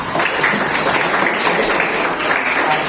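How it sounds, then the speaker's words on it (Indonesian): Applause from a classroom audience after a group presentation, a continuous fairly loud patter of clapping that stays even throughout. "Tepuk tangan"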